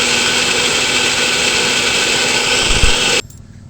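A kitchen mixer grinder runs loud and steady, close by, as it grinds rice into batter for chitoi pitha. The motor hums evenly for about three seconds before it cuts off abruptly and leaves near silence.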